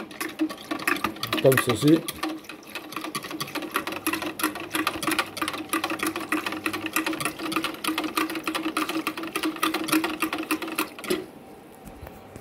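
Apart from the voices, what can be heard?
whisking a preparation by hand with a whisk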